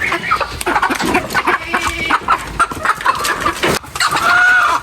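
A rooster clucks repeatedly and loudly up close, with choppy bursts of fowl calls and farmyard noise.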